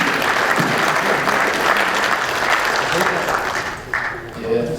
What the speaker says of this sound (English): a round of applause for Incho Suni